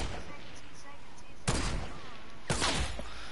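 Two sharp, evenly spaced shots from a semi-auto sniper rifle in the video game Fortnite ring out over a constant background wash, each with a short trailing decay.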